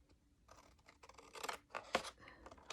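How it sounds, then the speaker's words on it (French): Paper being cut with a pair of scissors along fold lines for a two-part treat box, a series of close, crisp snips and rustling cuts, the sharpest one near the middle, with no voices. "avec ma paire de ciseaux donc tous les traits, suivre toutes les marques de pli jusqu'à ici au centre"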